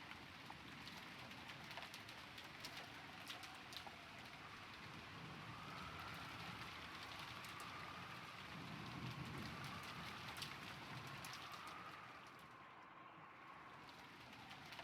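Steady rain falling in the Umineko When They Cry video game, a soft continuous hiss of drops with a low rumble swelling midway, heard alone without voices.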